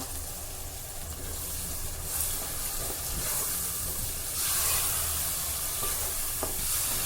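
Squid sizzling and being stirred in hot spiced oil for Agri-style squid khima: a continuous bright hiss of frying with occasional scraping stirs, close and steady throughout.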